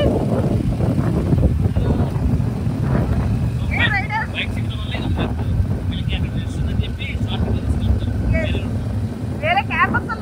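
A motorbike carrying riders pushes through a dense traffic jam around the Maha Kumbh Mela, with steady wind and engine rumble close to the mic and occasional higher tones cutting through from the surrounding vehicles.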